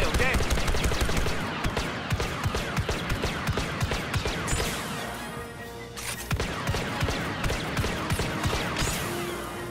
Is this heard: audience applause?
no